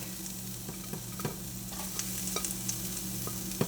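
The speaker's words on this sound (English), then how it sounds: "we're just going to start off by frying our aromatics" Steady sizzling of ginger and garlic frying in hot sesame oil, with occasional stirring clicks and scrapes over the constant crackle.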